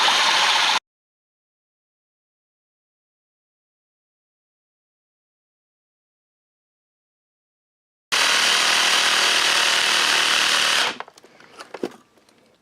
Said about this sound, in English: Okay, I got the sawzall here.